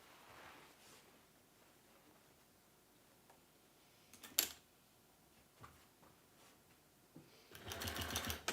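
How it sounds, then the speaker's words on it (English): A sewing machine top-stitches around the opening of a slouchy velvet bag. It stays faint and distant with small rustles and ticks, then makes a short, louder run of stitching at the end. "And then we're going to top stitch around the top of our bag."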